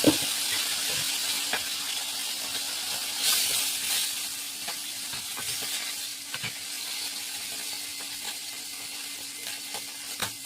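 A fish head sizzles and spits in hot oil, a steady close crackle with sharper pops scattered throughout and no talk over it.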